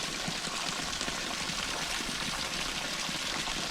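Pure forest-fed water running steadily at a village bathing spot, a continuous close rushing and trickling flow with no voices over it.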